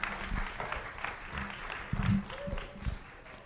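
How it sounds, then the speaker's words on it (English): An audience at a Washington State University athletics town hall applauds student athletes with a light, uneven patter of claps that swells briefly and then thins out. "can we get another round of applause for all our great student athletes and what they had to say?"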